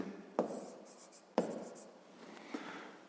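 A pen writes out a math problem's condition in short strokes, three crisp taps and scratches spaced about a second apart, quiet and close, with no talking.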